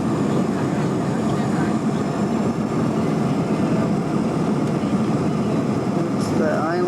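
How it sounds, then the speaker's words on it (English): Inside an airplane taking off from Cancun in 1995, a loud, steady engine roar fills the cabin without a break, with a brief higher whine near the end. "We just took off."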